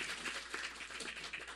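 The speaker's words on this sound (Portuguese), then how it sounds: "Aplausos carinhosos." Warm applause from a live concert audience at a Brazilian show, a brief burst of dense clapping that fills the space, fairly soft and steady with no music under it.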